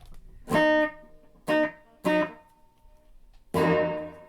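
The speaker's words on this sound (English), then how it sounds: "Delay's working." An electric guitar played through a delay pedal on a Pedaltrain Metro 20 pedalboard, sounding four separate strummed chords in a loose rhythm, each followed by a short echoing tail, close and clear with no talking.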